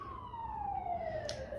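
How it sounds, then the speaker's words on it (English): A wailing emergency siren sweeps slowly downward in pitch, faint and distant, holding steady across the moment with no voices over it. "What's the siren?"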